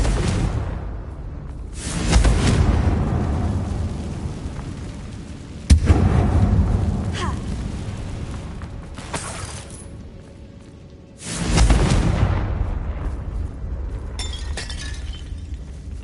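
Confringo blasting spells going off inside a mine in Hogwarts Legacy, three separate loud explosive bursts with shattering crashes, each fading into a rumbling tail before the next.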